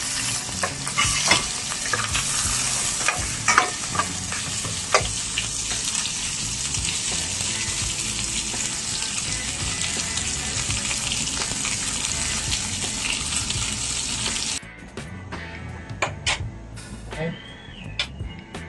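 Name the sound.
sliced pork frying in pan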